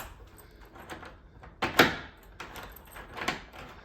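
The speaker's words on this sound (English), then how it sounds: "Always check it with the keys." Keys jangling and turning in a newly fitted door knob and deadbolt lockset, with a sharp metallic clack of the bolt and a few softer clicks, close and quiet with no talk.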